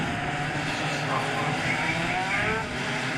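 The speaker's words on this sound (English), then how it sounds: "Get those engines warmed up." Superkart engines drone and buzz continuously as the karts circle the track on a warm-up rolling lap, a steady hum heard beneath a commentator's voice.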